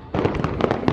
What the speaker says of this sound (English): There's like fireworks going on right now.